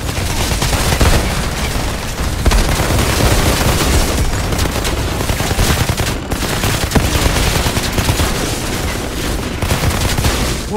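Relentless automatic gunfire from a firefight in the video game Outriders, loud and dense rapid shots overlapping with occasional heavier booms, continuing without pause throughout.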